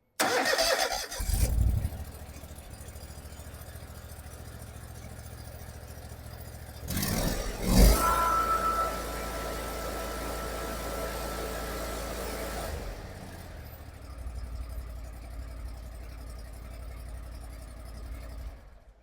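A zero-turn mower's small engine cranks and catches, then settles into a steady idle with a brief rev midway, running alone without voices.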